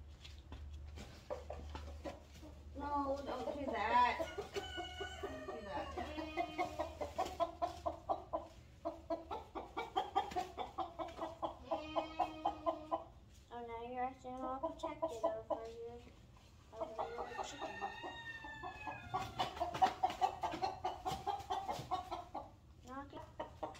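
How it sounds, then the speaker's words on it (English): New chickens that are sick cluck and cackle near at hand in a long, busy run of rhythmic calls, rising and falling with short pauses between bursts. "This chicken be crazy."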